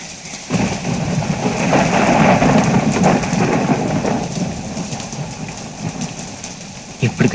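Steady rain pours in a romantic movie rain scene, a dense, loud hiss that swells up after a quieter start and holds with low rumbling underneath, while a voice speaks over it.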